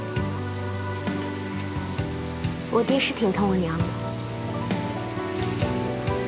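Steady rain patters on surfaces throughout a period drama scene, running under a brief spoken line and soft music.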